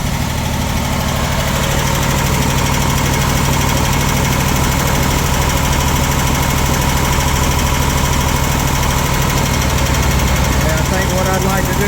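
A Hustler Super Z zero-turn mower engine runs steadily up close, a continuous loud mid-pitched drone with vibrating rattle and no break throughout.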